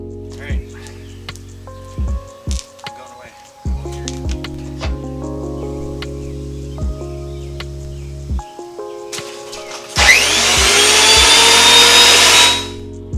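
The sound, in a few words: electric wood planer running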